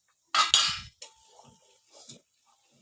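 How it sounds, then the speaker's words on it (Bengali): Ginger-garlic paste frying with browned onions in a pan, opening with a short loud burst of sizzle and a metal clank, followed by softer scattered scrapes and stirring taps. "এই যে মশলাটা কষানো হলো"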